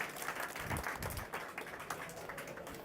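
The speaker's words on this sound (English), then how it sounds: "Let's give a nice round of applause to Colton." An audience at a Christmas carol event in a lobby breaks into applause, a dense, steady patter of many hands clapping from nearby for a few seconds with no talk.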